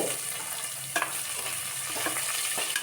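Steady sizzling and crackling of sliced onions frying in a hot pan, with a few sharp clinks of stirring.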